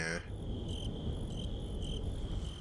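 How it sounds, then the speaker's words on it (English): Crickets chirp steadily through a Resident Evil 4 cutscene, a thin high repeating trill in pulses over a low, dark ambient rumble with no talking. "How the hell we gonna still hear crickets in the cutscene?"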